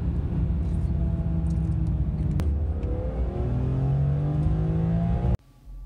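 A BMW M3 accelerates hard on a test drive, the engine rising through gears in loud rising sweeps with a brief shift break, then cutting off abruptly near the end.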